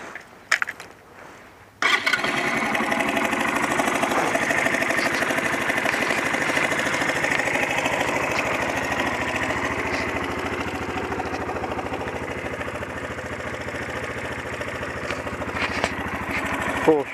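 A Sinnis Stealth 125 with a four-stroke single-cylinder engine starts and settles into a steady, close idle with a low, even thump, while a person talks over it.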